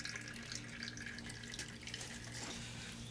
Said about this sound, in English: Water is leaking right here.